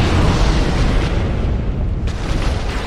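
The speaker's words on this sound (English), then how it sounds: "Exploding." A deep, rumbling explosion in Dark Souls Remastered, set near lava, rolls on as a dense low roar through the whole moment without any voices.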